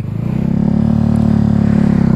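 A motorcycle fitted with a new clutch rides during wheelie practice in Nordelta, its engine giving a loud, close, steady buzzing drone with a fast pulsing throb and no voices.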